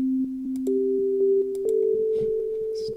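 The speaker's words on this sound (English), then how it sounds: "I'm just going to open up the most basic sound, which is basically a sine wave. So it hasn't got harmonics. It's very mellow." A basic mellow synthesizer sine-wave tone with no harmonics, held as steady pure pitches that step slightly higher partway through, with faint clicks and softer background sounds underneath.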